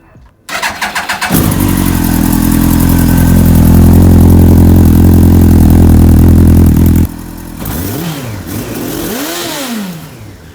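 Yamaha R1 sport motorcycle fires up with a short cranking burst, then settles into a loud, steady idle for several seconds before shutting off, followed by a few quieter revving swells.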